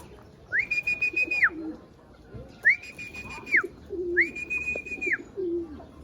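Racing pigeons landing at the loft after a 349 km race from Matnog, Sorsogon: three clear, evenly spaced whistle-like calls close by, with faint low cooing between them.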